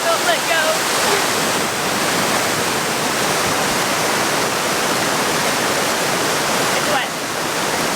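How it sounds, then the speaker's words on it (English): A waterfall at Plitvice Lakes, Croatia, roars up close as a dense, steady wash of falling water, loud and continuous, with a faint voice briefly audible near the start. "I'm gonna touch a waterfall, but I can't touch the waterfall."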